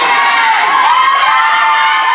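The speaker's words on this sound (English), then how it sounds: "The crowd's fired up like a hamster on Red Bull right now." Loud, continuous crowd cheering and shouting fills a basketball gym during a boys' high school game, a dense roar of many voices with no single speaker standing out.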